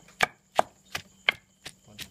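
A knife chops fresh herbs on a board for a mushroom curry: six evenly spaced, crisp, close chops heard alone.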